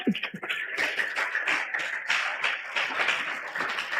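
Church congregation applauding the Lord during a Spanish-language sermon, a steady dense patter of hand claps filling the space at moderate level without a break.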